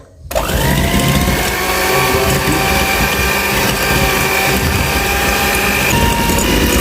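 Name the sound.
electric cake mixer running, low then highest speed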